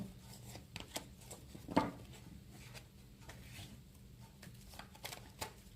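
Tarot cards shuffled and drawn from a deck, giving soft, irregular riffling and rubbing with a few sharper slaps and flicks, close and quiet with no talking.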